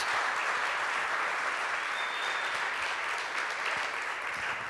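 A church congregation claps during a sermon, a continuous, fairly soft wall of applause with no talk, holding steady and easing slightly toward the end.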